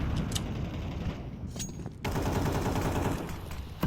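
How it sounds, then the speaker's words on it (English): Rapid automatic gunfire from a Counter-Strike match at a professional tournament, with sustained spraying bursts that briefly pause around the midpoint before resuming, loud and dense throughout. "His spam actually finds a bunch of damage on MagnoJez"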